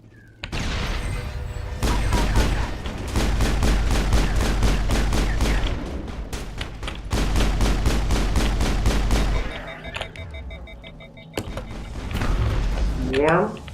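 Gunfire and a grenade explosion in the video game Mass Effect: dense, loud bursts of rapid shots with short gaps, continuing throughout, plus heavy low-end blasts.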